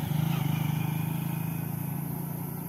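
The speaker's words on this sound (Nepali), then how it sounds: "गाइज अहिले चाहिँ रोशन दाई आफै घुमाउनु हुँदा छ होइन बाइक।" A motorcycle being ridden, its engine giving a steady, pulsing low drone at moderate loudness, easing slightly as it goes on, with no voices.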